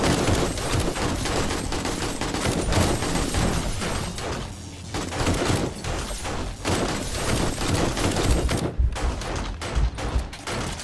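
Dense, loud automatic and rapid gunfire from a 7 Days To Die blood moon horde defense, bursts overlapping almost without pause and punctuated by heavier thumps throughout.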